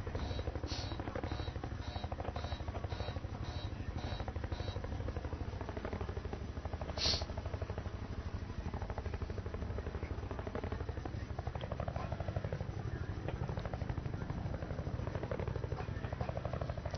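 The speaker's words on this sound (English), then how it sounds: "look at that guy flying the helicopter" Attack helicopter in the video game Battlefield: Bad Company 2, its steady rotor drone and chopping thrum running continuously throughout, with a burst of sharp clicks early on and a brief bright tone partway through.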